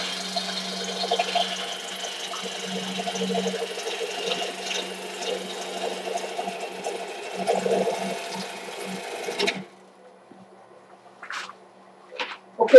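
A wood lathe spins as a gouge cuts a bowl blank, making a steady hissing, scraping cut over a low motor hum that runs for about nine seconds and then stops, followed by a few faint knocks.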